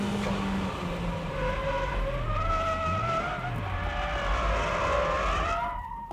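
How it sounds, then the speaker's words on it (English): A car drifts with understeer, its tyres squealing in long, loud wavering tones over engine roar that keeps on without a break and fades out at the very end. "That's how you keep control and drift with understeer."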